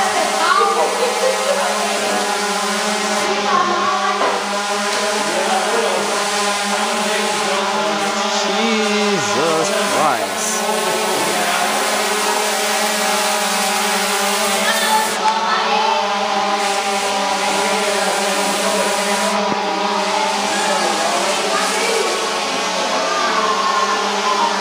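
Indoor drone motors whining steadily at a high pitch for a long stretch, with rising and falling tones as the rotors change speed, loud and close with some talk over them.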